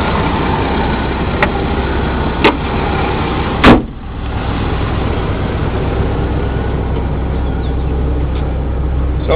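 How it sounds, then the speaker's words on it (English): A truck hood slams shut once with a sharp, loud thud, preceded by a couple of lighter clicks, over a steady engine idle rumbling throughout. "Just close the hood."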